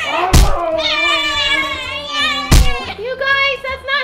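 A person imitates a cat, drawing out long, high, tonal meows in repeated calls, loud and close, with two sharp thumps in between and no other speech.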